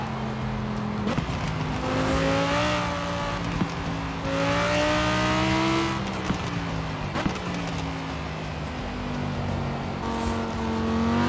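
An Audi R8 engine in Forza Horizon 4 revs loudly and continuously, pitch climbing and dropping through repeated gear shifts with brief dips between pulls, alone without talk.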